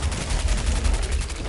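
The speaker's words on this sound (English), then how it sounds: "I'll go back to my splatter cannon and just use this" Splatter cannon weapon in Fallout 4 firing in a rapid, continuous stream of loud, crackling shots with a heavy low rumble, steady throughout with no pauses.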